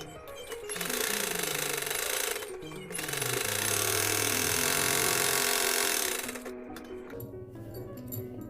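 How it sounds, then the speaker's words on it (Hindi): Sewing machine stitching the side seam of a size 48 blouse: a loud, rapid mechanical whirr running in two long bursts with a brief pause between, then slowing to quieter clatter near the end. "यहाँ से हम नीचे तक सिलाई लगा लेंगे"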